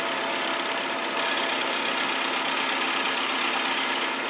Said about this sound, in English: So now we will ream that out to size.